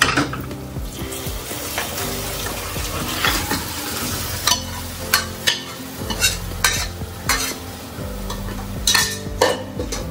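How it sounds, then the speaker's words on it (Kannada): Boiled mutton being fried in a pan with onion, curry leaves and dried chillies, giving a steady close sizzle with repeated sharp scraping and clinking of a spoon stirring against the metal pot. "ಸೊ ಇದನ್ನ ಚೆನ್ನಾಗಿ ಫ್ರೈ ಮಾಡ್ಕೊಂಡು ಇದಕ್ಕೆ ಬೇಯಿಸಿರೋ ಮಟನ್ ಹಾಕೊಂತಿದ್ದೀವಿ."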